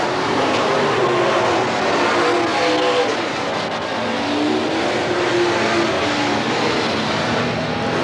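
Race cars circling the oval at Willamette Speedway in a 1991 event, a dense continuous roar of several engines at steady high volume, with no commentary over it.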